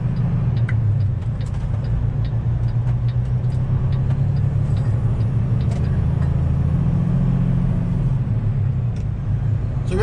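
Steady low rumble inside the cab of a flatbed semi truck hauling a loaded trailer down the road, a continuous engine and road drone with faint rattles and ticks, no voices.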